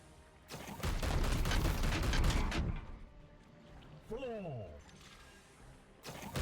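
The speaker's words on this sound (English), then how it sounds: "We'll let Mir shoot these guys a few times" Rapid bursts of gunfire from the Warhammer 40,000 Chaos Gate Daemonhunters video game, loud and dense for about two seconds, then easing into quieter mechanical clicks and a whooshing sweep.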